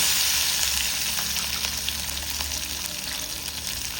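Chili and crushed garlic frying in hot oil for a greens kootu, a close, steady crackling sizzle with scattered pops throughout.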